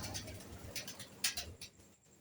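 Pigeons kept with their young in a loft in Punjab give soft, low cooing with faint rustling and shuffling, quiet and close, with no talk.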